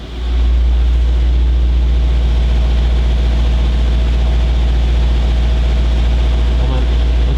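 A Mercedes-AMG GT 63 S engine runs with its sport exhaust open, giving a loud, close, deep steady rumble that holds level throughout, with a slight swell near the end.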